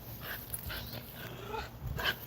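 A puppy whimpers and growls in short, faint bursts at close range, over a low background rumble.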